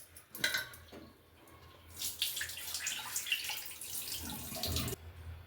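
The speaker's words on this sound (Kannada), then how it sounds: "ನಾನು ಕುಡಿಯೋ ನೀರನ್ನು ಹಾಕ್ಕೊಂಡು ಒಂದು ಸಲ ತೊಳ್ಕೊಳ್ತೀನಿ" Lentils being rinsed by hand with drinking water in a kitchen make close splashing and sloshing, with a short burst at the start and a longer, louder churning wash in the middle, then a quieter trickle, no talking.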